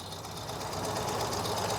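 A customized 2023 Ural Gear Up Sahara fuel-injected motorcycle engine idling steadily nearby, a smooth even rumble with a light ticking texture.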